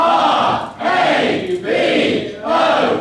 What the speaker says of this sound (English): So they also deserve a good scout cheer.